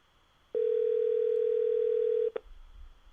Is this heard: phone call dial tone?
yes